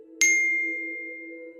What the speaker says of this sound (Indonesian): Bill yang berdiri di lorong nunggu suara ringtone itu muncul